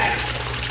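Treated tap water pours steadily into a backyard guppy pond, a brief close rushing splash with no voices.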